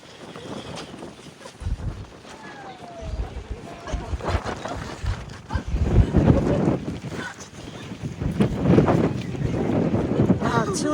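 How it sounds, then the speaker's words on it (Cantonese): Strong gusts buffet the microphone outdoors in the Saint-Émilion area near Bordeaux, France, a loud rumbling roar that swells and surges throughout, with voices faintly under it. "超大風，超大風！"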